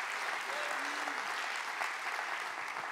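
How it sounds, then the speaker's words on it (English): A church congregation claps hands together in a dense, steady wash of applause, with a voice faintly heard talking underneath. "It's time to clap your hands big for Jesus right now."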